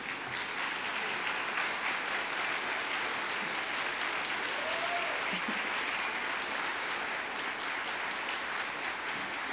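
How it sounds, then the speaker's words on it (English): A large crowd at a school graduation ceremony claps in a steady, sustained wash of applause for nearly ten seconds, moderately distant and even, with no speech over it. "you give a big round of applause to all those people"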